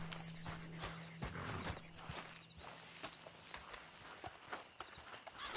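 A horse in a video game walks at an even pace, with soft hoof clops and footsteps quiet under low background music.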